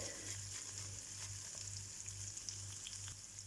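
Tomato pepper paste frying in a pan for acuka gives a steady, close crackling sizzle, with a faint low hum pulsing underneath and no speech throughout.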